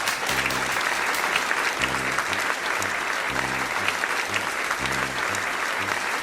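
A group claps for Azzouz in continuous, dense applause that runs the whole way through, with a repeating rhythmic musical beat thumping underneath.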